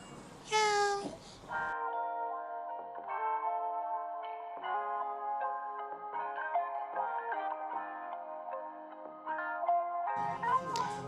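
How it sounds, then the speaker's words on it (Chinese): Two small cats meowing outside a closed restaurant on a Chinese island on a rainy day, a high plaintive meow at the start and another at the end, with a steady tonal hum in between. "只有门口2只小猫在这边"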